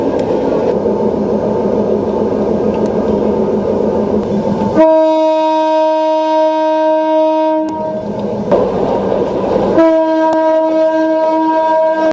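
A loud train rumbles close by at Ragama station, then sounds its horn in two long sustained blasts separated by a brief pause, with heavy rail noise throughout.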